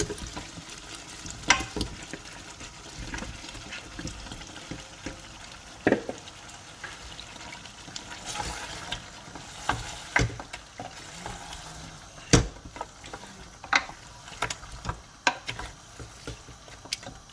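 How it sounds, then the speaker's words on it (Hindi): Goat trotters (paya) frying in oil in a pan for Lahori paya, a soft, steady sizzle with scattered sharper crackles and pops, fairly quiet and close, with no voices. "मैं इसमें पाए डालूँगी, और पाए डाल के इनको भूनूँगी"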